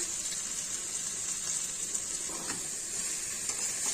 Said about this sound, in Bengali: এবার চিংড়ি মাছগুলোও ছেড়ে দিলাম,